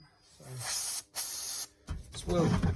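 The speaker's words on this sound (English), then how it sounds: "It's just to try and shock the dust through until the multi-purpose lubricant picks it up." Aerosol multi-purpose lubricant sprayed into a broken tool during repair, heard as two short hissing bursts separated by brief pauses, followed by faint handling noise and low background sound.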